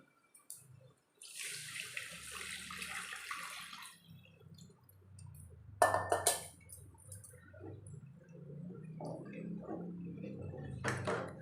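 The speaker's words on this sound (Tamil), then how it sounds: "நம்ம புளி தண்ணியை ஊற்றிடலாம்" Tamarind water pours and splashes into a curry pan in a few separate bursts, with quiet clinks and kitchen handling sounds between.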